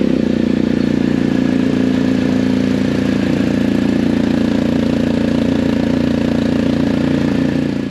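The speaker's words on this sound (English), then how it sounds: "we're just gonna fire up the motor and make sure it's running right" A 2022 BMW R 1250 GS Adventure motorcycle engine runs at a steady idle after a service, with an even, close mechanical thrum and light valve clatter, unbroken and with no voices.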